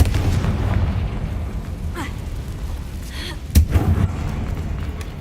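A blasting spell in Hogwarts Legacy goes off against a damaged bridge, a rumbling low burst with crackling debris, followed by a sharp crack and another boom, under steady game background noise.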